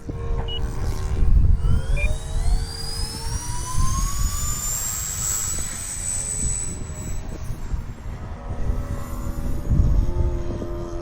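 An E-flite SR-71 Blackbird twin 40mm electric ducted-fan RC jet takes off on its maiden flight, a loud whining fan pitch that climbs steadily over rumbling ground roar, with wind buffeting the nearby microphone.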